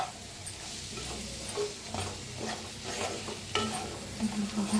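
Chillies and fennel seeds dry-roast in a pan, a soft sizzle under repeated spatula scrapes and light ticking stirs, faint and close with no talking.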